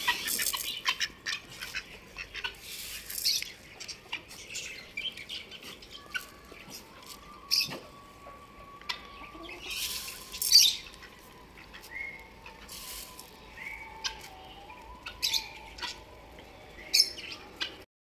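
Pet chukar partridges calling while they wait for feed, giving repeated squawks and chirps at varying distances with a thin whistling tone running through the middle, set against quiet surroundings.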